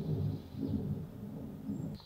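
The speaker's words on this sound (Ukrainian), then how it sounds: "Щось мені здається, що до нас суне гроза." Low, rolling thunder rumbles steadily from a powerful thunderstorm approaching an Alpine home. The sound is distant and muffled, with no talk.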